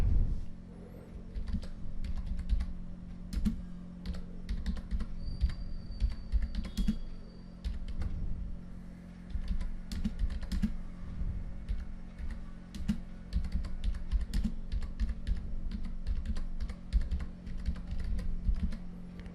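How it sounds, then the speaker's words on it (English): Fingers type on a computer keyboard in a quiet room, a steady run of close, crisp key clicks with brief pauses, alone without talk. "Now let us type something."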